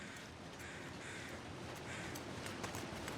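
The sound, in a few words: carrion crows cawing in The Long Dark video game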